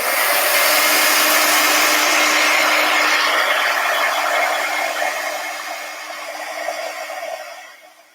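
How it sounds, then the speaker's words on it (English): A hair dryer blows steadily for several seconds to dry stenciled craft paint on earring backdrops, a loud close whoosh that fades and winds down near the end, with no talking. "I'm going to turn on the hair dryer and get these dry"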